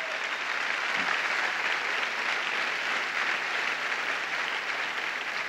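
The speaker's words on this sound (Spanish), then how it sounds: "Sea aplaudido, aplaudirle al Señor." Church congregation applauding during a sermon, a steady, full round of clapping from many hands that holds at an even level throughout.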